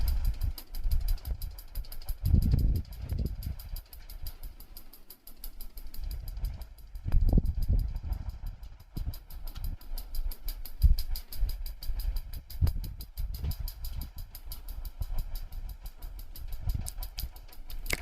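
A sewing machine stitches folded cloth into small frills around a curved seam, with bursts of mechanical whirring and rattling separated by quiet pauses, close and fairly soft, with no talk.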